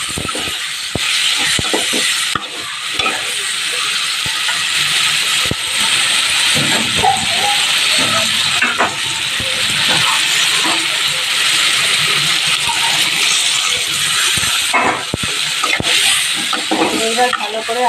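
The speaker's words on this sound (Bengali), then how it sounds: "এই দেখো গুঁড়ো মশলাটা একটু জলে ভিজিয়ে রেখেছিলাম, এটা দিয়ে দিচ্ছি।" Soaked ground spice paste hits a hot pan and is stirred, giving a loud steady hiss with repeated clattering utensil scrapes and knocks throughout, close up.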